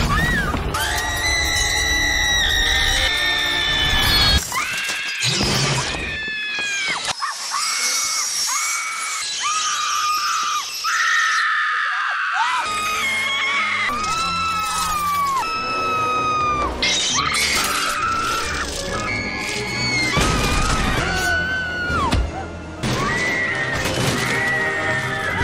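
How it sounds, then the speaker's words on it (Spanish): Montage of women screaming in Sam Raimi films: a rapid series of loud, shrill high-pitched screams and shrieks, cut together with crashes and film sound effects, with a brief quieter stretch midway. "he preparado este bello montaje de las mujeres gritonas de Sam Raimi"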